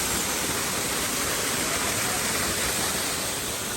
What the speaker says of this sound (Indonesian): Kita di air terjun Bukit Gideon